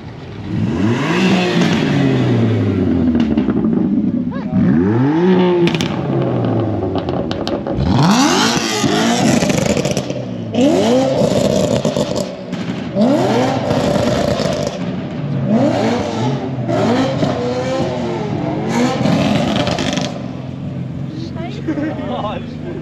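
Several BMW cars rev loudly as they pass one after another at a classic car event in Frankfurt, engines rising and falling in pitch up close, with people talking in the background.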